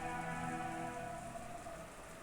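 Steady rain falls at night, a continuous dense patter of drops on a surface, even and moderately loud throughout with no voices.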